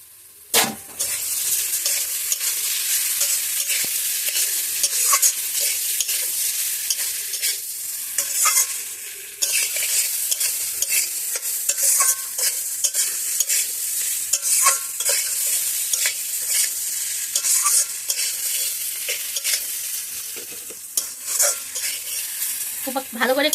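Washed, sun-dried rice is stirred and dry-fried in a kadai, a close, continuous scraping and rattling with a light sizzle and rhythmic spatula strokes throughout, no voices heard.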